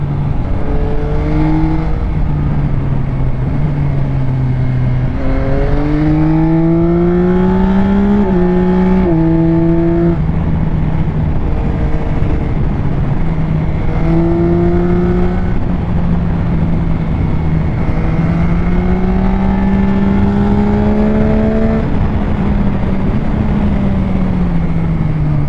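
Yamaha Tracer 9 GT motorcycle engine humming loud and steady while riding in low gear, pitch rising and falling with throttle changes under constant wind rush.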